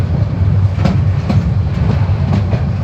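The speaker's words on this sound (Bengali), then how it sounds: "জাস্ট টাইমে ট্রেন ছেড়ে গেল কমলাপুর রেল স্টেশন থেকে।" Morning passenger train leaving Kamalapur railway station in Dhaka, bound for Kishorganj: a steady, loud, close rumble of the carriage with regular clickety-clack beats from the rail joints and no voices.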